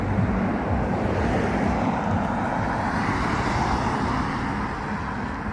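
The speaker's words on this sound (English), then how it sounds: "too many cars about, too noisy." Cars pass along a busy village street in Long Melford, Suffolk, making a steady, fairly loud broadband traffic roar that swells and fades slightly, with no talking.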